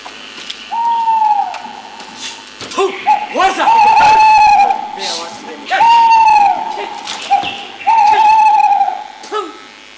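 A bird gives loud, nearby hooting calls, repeated about four times in drawn-out tones, with voices speaking between the calls.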